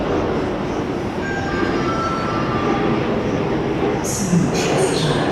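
Suburban and long-distance trains running through a station at rush hour give a steady broad rumble, with thin squeal tones partway in and a brighter hiss and clank toward the end.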